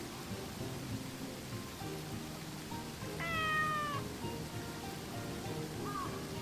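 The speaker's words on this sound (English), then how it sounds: "Kitty is so loud." A cat in the game Sakuna: Of Rice and Ruin gives one clear, fairly loud meow partway through, over a steady background of rain and low ambient noise.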